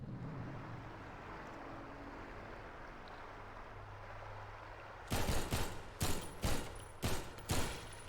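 Gunfire in Half-Life 2 MMod: after a stretch of low ambient hum, five loud close shots ring out in quick, slightly uneven succession.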